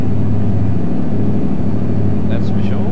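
Deep, steady diesel rumble of a Mack Superliner road train in American Truck Simulator, a loud continuous low drone with a faint whine on top, while someone talks over it.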